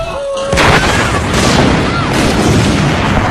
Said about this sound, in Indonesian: Api mulai menjalar kemana-mana mengenai drum solar hingga gudang itu pun meledak.